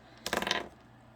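A short burst of small hard objects clattering together and tumbling, like dice rolled across a surface, lasting under half a second before fading to quiet.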